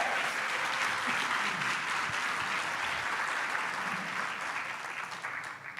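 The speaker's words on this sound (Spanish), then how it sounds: "démosle un aplauso al Señor" Church congregation applauding together during a Spanish-language sermon, a steady dense wash of clapping that holds for several seconds and thins slightly toward the end.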